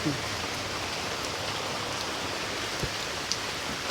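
Heavy torrential rain pours down in a steady, dense hiss that stays close and unbroken, with a few louder drops and knocks standing out briefly.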